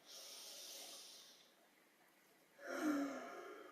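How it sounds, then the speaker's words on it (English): A slow, deep breath during a chair yoga class, an airy hiss that fades, a short pause, then a stronger breathy exhale, close and soft with no talking. "One more deep breath here."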